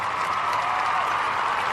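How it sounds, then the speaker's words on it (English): A steady, dense golf clap fills the clip, a sustained round of applause at a game awards show that stays even throughout with no voices on top. "There it is. Golf clap."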